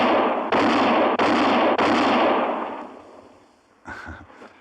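Three loud, sharp gunshots crack in quick succession during a quick-draw shooting demonstration in an old Western radio drama, each ringing out into a fading echo, followed by a brief shuffle.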